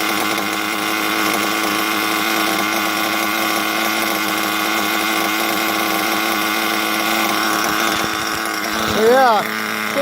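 A nitro RC car engine runs during break-in, a steady, high, buzzing whine that holds constant for the whole stretch, close and fairly loud, with a brief rising rev near the end.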